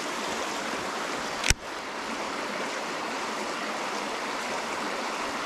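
Creek water runs steadily as a broad, even rush, close and continuous, with one sharp click-like thump partway through; no one talks.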